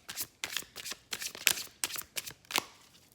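A deck of tarot cards is shuffled hard in a series of quick, crisp riffling bursts, close and clear with no talking.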